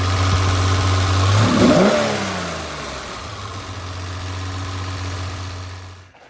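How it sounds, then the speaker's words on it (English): BMW E30 325iS engine with management and cooling faults, idling roughly and unevenly, with a steady low hum and a brief rev flare near the start, close and loud with no talk. "So I do have it running. The idle's still not perfect."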